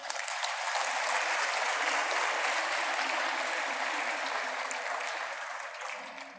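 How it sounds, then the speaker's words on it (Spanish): Audience applause fills the room steadily for several seconds, a dense even patter of many hands at moderate volume that tapers slightly at the end, with no talking over it. "Muy bien, fuerte aplauso."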